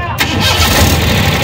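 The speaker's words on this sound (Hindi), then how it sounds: "हम आपको उसका इंजन का साउंड भी सुना देंगे" A Suzuki pickup truck engine running on LPG cranks and catches, then settles into a rough, loud idle close by.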